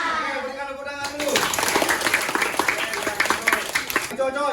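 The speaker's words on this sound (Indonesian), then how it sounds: "Oke, berikan tepuk tangan dulu" Classroom students applaud in a dense burst of clapping lasting several seconds, between stretches of a teacher's voice at the start and end.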